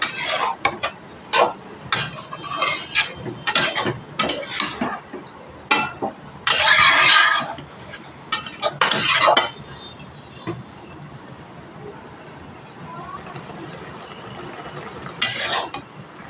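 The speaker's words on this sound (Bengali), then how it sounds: "শাকগুলো একটু উল্টিয়ে পাল্টিয়ে দেবো" Leafy greens boiling in a pot are turned over with a utensil, giving repeated close scrapes, knocks and clatters against the pot, bursts of stirring and wet rustling, quieter toward the end.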